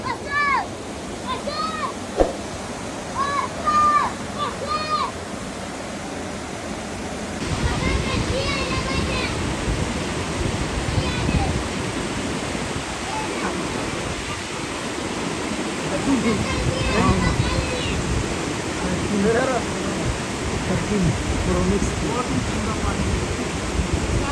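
A swollen river rushes along the Karakoram Highway in Kohistan, a steady roar of heavy water that grows louder partway through, with voices talking over it at times.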